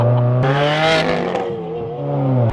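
A Liberty Walk Lamborghini Aventador makes a U-turn nearby with a loud, steady engine note. The pitch dips and swells as it turns, followed by a sharper rise in revs at the end.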